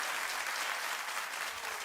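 Studio audience at a daytime talk show breaks into sustained, dense applause, a steady wash of clapping that fills the room evenly from start to finish with no voices standing out.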